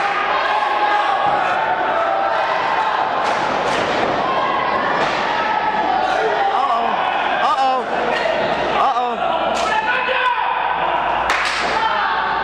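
A pro wrestling crowd at a live show cheers and shouts loudly and continuously, mixed with thuds, slams and scattered yells from near the ring.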